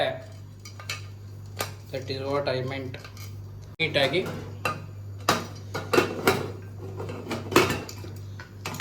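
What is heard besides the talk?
closing the lid of a pressure cooker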